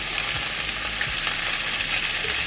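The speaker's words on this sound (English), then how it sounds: "Keep stirring until the onions are ready." Onions fry in a pan with a steady, close sizzle and a couple of soft stirring scrapes early on, no voices.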